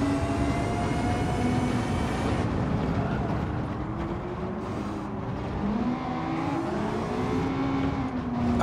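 An Audi e-tron Vision GT electric race car driving in Gran Turismo 7 at Interlagos gives off a loud, steady electric whine with shifting tonal layers throughout, and a voice talks over it.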